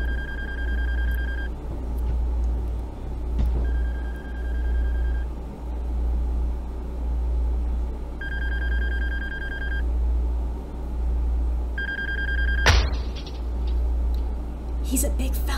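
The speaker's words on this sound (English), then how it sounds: "I'm answering the phone." A telephone in the video game Shipwrecked 64 rings in four clear electronic bursts over a steady low hum, followed by a sharp click as the receiver is picked up.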